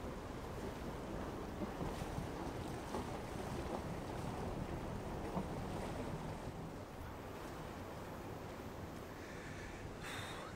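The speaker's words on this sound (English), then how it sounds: "It's getting a bit windy." Wind gusts across the stern of a narrowboat, a steady roaring rush with buffeting microphone noise throughout and a few brief clunks near the end.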